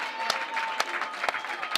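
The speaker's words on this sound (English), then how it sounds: "the loud cheer from the fans, it tells you a whole lot about how important that particular goal was" Fans cheer after a goal at a girls' hockey tournament match, a broad, steady crowd roar with scattered sharp claps and whistles running throughout.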